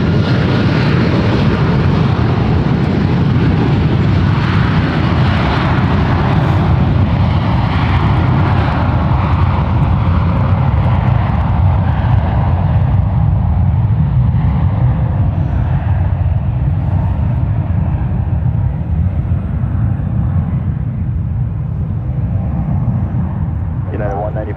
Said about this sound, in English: 757-200 departing off there.